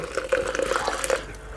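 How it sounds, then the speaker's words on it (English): Boiling water poured from a kettle into a home-brew bitter mash in a pub shed, a short close splashing and trickling burst with small bubbly drips. "So that's hot water you're adding? Yeah, this is the boiling water"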